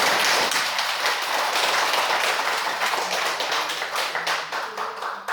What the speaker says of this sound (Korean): 참 우리 본공회장을 위해서 박수 한번 좀